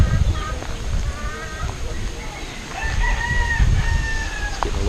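Chickens cluck and a rooster crows around a farm in Cuba, with bird calls rising over a steady outdoor background and people talking nearby.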